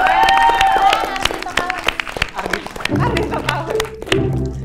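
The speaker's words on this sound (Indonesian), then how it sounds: "Tepuk tangan untuk Arya dong." Audience clapping in a televised university quiz-show studio, scattered claps over music and a presenter's talk, with a brief swell of crowd noise partway through; moderately loud and mixed with other studio sounds.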